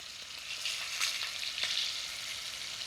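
Prawns dropped one at a time into boiling oil for a shallot roast give off a steady, fairly soft sizzle with brief crackling bursts, and no one speaks over it.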